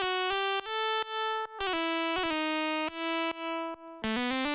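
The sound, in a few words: melodic section played on polyphonic synthesizer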